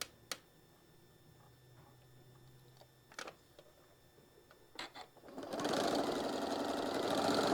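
A home sewing machine stitches a quarter-inch seam in dark thread on a stained glass quilt block. A few scattered clicks and taps come first, then the motor starts into a loud, steady, rapid whirring run.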